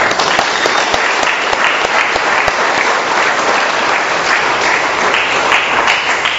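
A crowd at an Alcoholics Anonymous meeting in Doylestown, Pennsylvania gives a quick round of applause, many people clapping in a full, continuous burst that holds steady and close for several seconds.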